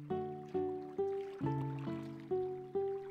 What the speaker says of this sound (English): There's even water in the background.